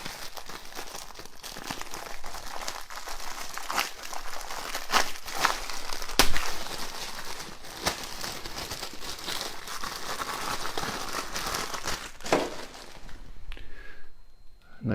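Plastic bag holding wide slick tires from a Tamiya 40th Anniversary Porsche Turbo RSR Type 934 model kit crinkles and crackles steadily near the microphone, with a few sharper rustles and no talking.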